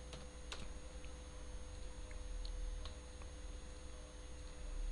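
Computer keyboard typing while entering text into a spreadsheet, quiet scattered key clicks over a steady electrical hum and hiss, no voices.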